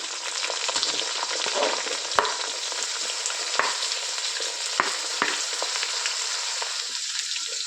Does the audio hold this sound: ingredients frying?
yes